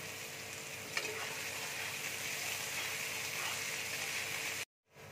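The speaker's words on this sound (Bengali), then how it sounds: "গাজর কুচি দিয়ে দিচ্ছি, বিনস কুচি দিয়ে দিচ্ছি, ক্যাপসিকাম কুচি দিয়ে দিচ্ছি। ভালো করে ভেজে নেব।" Chopped carrot, beans and capsicum fry in a pan for a veg cutlet, a steady close sizzle that runs unbroken until it cuts off abruptly near the end.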